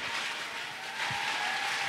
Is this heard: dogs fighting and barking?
no